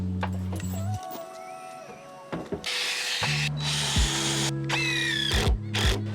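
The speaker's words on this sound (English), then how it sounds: "We start by screwing the outside boards together and then add the center supports." A power drill driving screws into dock deck boards, with several bursts of whirring motor that rise and stop, separated by short pauses and light wood handling, close and fairly loud.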